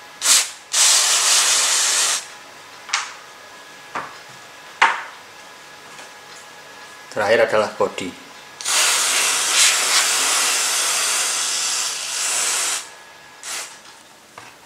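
Cleaner is sprayed onto parts of an Optimus Polaris multifuel stove in repeated hissing bursts of varying length, close and moderately loud. A short stretch of talk falls partway through.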